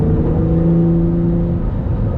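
Tuned Acura NSX two-seater coupe, around 700 horsepower on race gas, accelerating hard with a loud, steady engine drone and rising harmonic whine, close and continuous with no talk.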